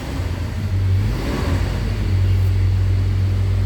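A 2011 Toyota Hilux engine idles just after starting, following a crank-but-no-start ECM fault, giving a loud, steady, close low hum with a constant drone and no talking.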